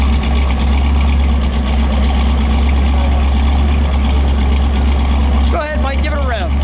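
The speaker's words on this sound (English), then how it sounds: "let me just let it idle for a second" A 1968 Chevrolet Yenko Camaro SS 427 V8 with a four-speed idles steadily with a deep, loud, even rumble, and a brief voice cuts in near the end.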